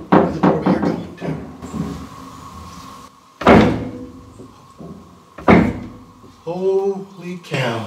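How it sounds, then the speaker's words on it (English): Several solid door thunks and knocks in the abandoned Kings Park Psychiatric Center, with a door swinging open amid the clatter; people talk in between. "Now somebody just opened that door too."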